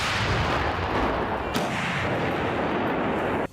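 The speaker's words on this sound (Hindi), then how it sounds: "तोप से गोला छूटते ही वहां ऐसी तेज आवाज हुई मानो बिजली गरजी हो।" Russian 2S7 Malka self-propelled artillery firing shells: a loud, dense roar of blast noise that fills the whole span, with one sharp crack partway through, and no voices.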